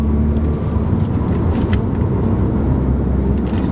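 A Volkswagen engine is heard close up from inside the car as the throttle is pressed and released, giving a steady, loud low rumble that swells and eases slightly with no talking.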